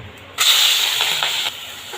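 Prawns dropped into hot oil for an Odia prawn curry hiss up abruptly into a loud, bright sizzle that holds steady, then eases back to a softer crackle near the end.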